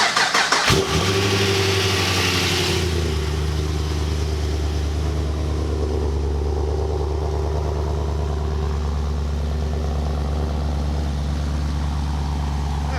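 A modified car engine cranks and fires up, then holds a loud, deep, steady rumble close by.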